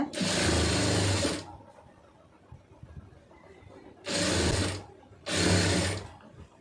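A domestic sewing machine stitches piping onto a garment neckline in loud, steady bursts: one long run of stitching, a quiet pause, then two shorter runs close together, with no talking.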